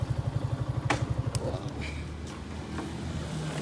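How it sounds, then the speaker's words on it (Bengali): Motorcycles on a tour pull up on the hilltop at Sajek, one engine throbbing in a close, rapid idle that soon gives way to a lower rumble and scattered clatter. "আমাদের বাদ বাকি বাইক গুলো চলে আসছে, আরো আসতেছে।"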